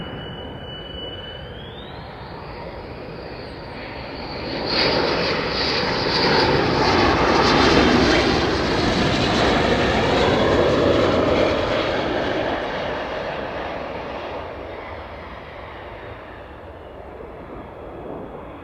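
A 48th Fighter Wing fighter jet doing a touch and go passes overhead with a loud engine roar that rises to a peak, holds as a broad rushing blast, then slowly fades into the distance.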